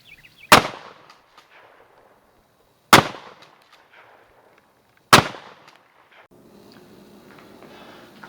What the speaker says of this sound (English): Okay, next shots are from 15 yards.